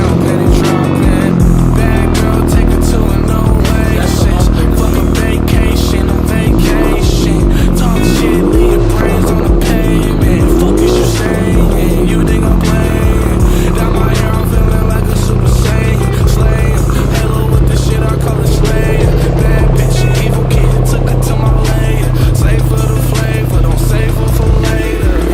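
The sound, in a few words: car engine starting and revving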